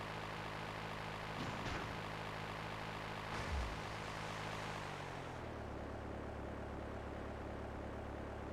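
A small propeller airplane in GTA III, a loud continuous engine drone with a few brief roaring surges before the pitch drops and settles into a lower, steady hum, with no talk.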